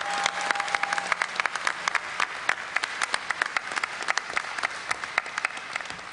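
Dense audience applause fills a BlizzCon panel hall, many hands clapping steadily throughout with sharp individual claps standing out, loud and sustained without talk.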